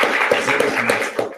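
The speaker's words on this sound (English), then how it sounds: "Let's give him a round of applause." Audience applause at a supply chain breakout session, dense steady clapping from a crowd that holds at an even level for the whole short stretch, with no voices over it.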